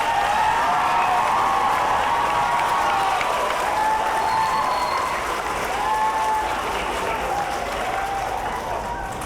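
Sustained applause from an audience at a school district Veterans Day program, with some crowd voices mixed in, steady and fairly loud throughout.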